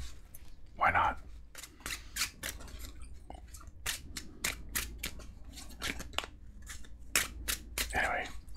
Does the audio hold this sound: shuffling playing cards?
yes